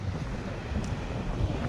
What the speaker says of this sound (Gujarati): પવન છે ફૂલ પવન દિવસે વધવામાં જ છે